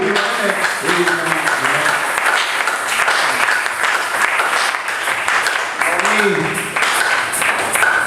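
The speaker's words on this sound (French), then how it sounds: "Applaudissez pour le grand Dieu." A congregation at a French-language sermon applauds in a dense, continuous wash of clapping that keeps going throughout, with voices and shouts mixed in.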